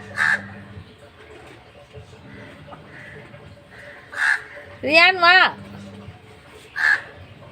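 Crows caw several times, with single harsh calls spaced a few seconds apart and a quick burst of rapid caws in the middle, outdoors in the morning while people talk.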